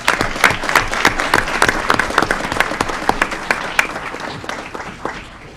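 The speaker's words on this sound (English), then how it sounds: "Now, a big round of applause for all of you." Youth council members at an Aurora committee of the whole meeting get a round of applause: dense, steady clapping from a crowd that holds for several seconds and then thins out slightly near the end.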